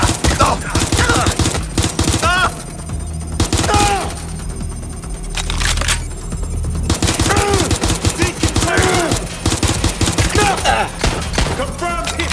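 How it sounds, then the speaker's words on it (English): Rapid bursts of gunfire crackle through a Watch Dogs: Legion firefight, dense and continuous with brief lulls, loud and close amid other game sounds and occasional voices. "Suspect has opened fire!"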